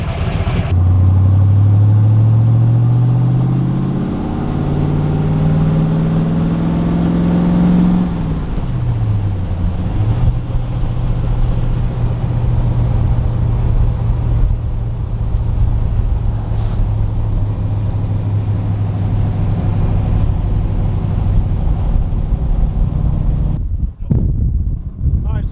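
A 1970 Corvette C3 V8 idles steadily at around 700 rpm after a carburetor primary jet and power valve change, a low even rumble that briefly rises and settles near the start, close and loud, continuing alone until a sudden drop at the end.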